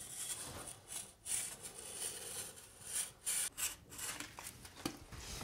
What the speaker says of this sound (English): So with the spatula and your craft knife, just push it into the bottom nice and carefully.